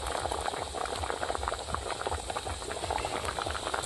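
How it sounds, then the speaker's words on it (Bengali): Magur fish curry broth with new potatoes bubbling at a steady boil in a pot, a dense continuous burble of small pops at moderate volume, heard close without any voices. "ঝোলটা ফুটে উঠেছে"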